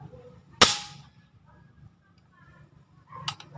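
A sharp single crack of an airgun fitted with a PVC and epoxy muzzle brake fires once near the start, followed by quiet background and a faint later clatter.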